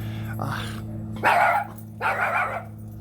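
Dogs bark and growl in a few harsh, close bursts over a low steady hum, about three outbursts in quick succession with short gaps between them.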